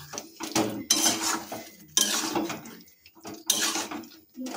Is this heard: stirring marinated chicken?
yes